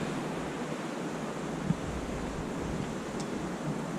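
A river flows beside riverside cabins in a canyon valley, a soft, steady broadband rush with no distinct events apart from a single faint knock, with no voices.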